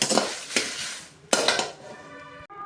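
Dry red chillies being roasted in a pan for idli podi, with scraping stir strokes and clinks of a spatula against metal, loud and close, tapering off near the end.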